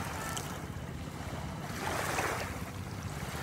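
Sea waves wash onto the shore at South Palm Beach Resort in a steady, soft rush, swelling slightly partway through, with wind noise blended in.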